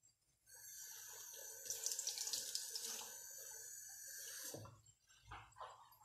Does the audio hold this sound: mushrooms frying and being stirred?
no